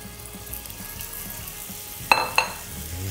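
Chicken pieces land in a warm pan, setting off two sharp sizzling bursts over a soft steady background hiss while cooking for Mexican chicken tacos.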